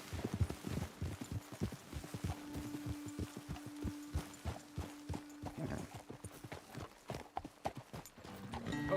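Horses' hooves clip-clop steadily in a video game, a brisk repeated rhythm of clopping close by over a low sustained hum, with no one talking.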